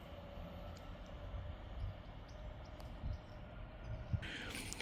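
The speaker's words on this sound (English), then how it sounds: "And there that goes off in the distance towards Manchester Piccadilly." A train on the West Coast Main Line Manchester branch at Heaton Chapel rumbles away toward Manchester Piccadilly, a faint, steady low drone fading into the distance, with small clicks and a brief higher hiss near the end.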